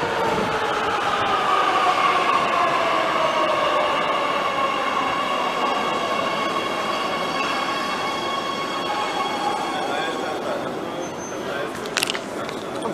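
An Oslo metro train runs steadily, its loud rolling rumble and rising and falling electric motor whine continuous throughout, with a brief wheel screech near the end and voices faintly underneath.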